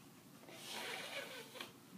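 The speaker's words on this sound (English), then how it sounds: "And then blow your nose." A child's soft, breathy nasal blow into a tissue lasting about a second, close and quiet, with a short puff near the end.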